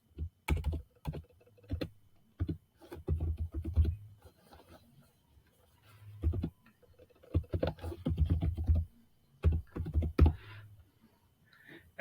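Close, crisp keystrokes on a computer keyboard as an email address is entered, coming in quick irregular bursts separated by brief pauses, alone without talk.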